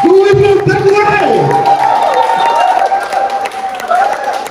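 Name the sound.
audience applause and cheering at a launch event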